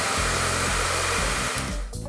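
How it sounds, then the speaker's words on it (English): A handheld blow dryer set to a gentle warm setting runs with a loud, steady whir and a low motor hum, alone and close, easing off briefly near the end. "grab a blow dryer, put it on a gentle warm setting, and heat up the end of your curling iron for about 5 seconds"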